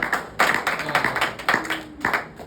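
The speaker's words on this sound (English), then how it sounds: "let's get a clap going for Jaquan." A small group at a Monday morning work meeting claps in a short, uneven burst, individual hand claps audible in loose clusters rather than full applause, fairly close and brief.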